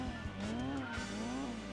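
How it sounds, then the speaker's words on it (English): Tires squealing under wheel spin from a Jaguar race car in the Gran Turismo 2 video game, a sustained wavering screech over a loud revving engine drone for under two seconds. "There's a lot of wheel spin from that Jag on the right"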